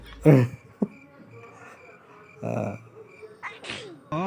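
A single sharp sneeze bursts out early and close, followed by short scattered noises and people talking at a casual comedy gathering.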